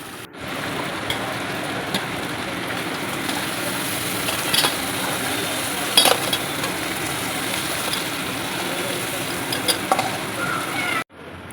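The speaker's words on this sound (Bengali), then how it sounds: "কাঁকড়াটা একটু ভালো করে ভেজে নেবো" Crab frying in hot oil in a home kitchen, a loud continuous sizzle with scattered spatters and light stirring knocks, close up and without talk, ending in a brief cut.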